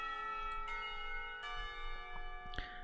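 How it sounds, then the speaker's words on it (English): A school bell in the visual novel game Katawa Shoujo rings with repeated resonant metallic strikes whose tones ring on and overlap, loud and close, with no voices. "the bell rings and I have to go to the class."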